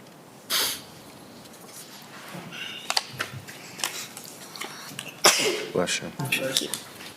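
A single sharp sneeze bursts out near the start in a quiet city housing appeals board meeting room, followed by faint shuffles, small knocks and scattered soft room noises.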